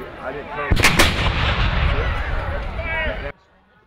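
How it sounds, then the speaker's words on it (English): A sharp cannon and gun blast booms out at a Civil War reenactment in a park, followed by a sustained rolling rumble of gunfire with faint crowd voices underneath. "as the guns and cannons went off"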